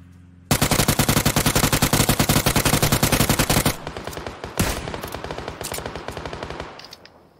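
Loud, close automatic gunfire in PUBG, one long rapid continuous burst followed by a quieter stretch of more scattered shots and distant reports.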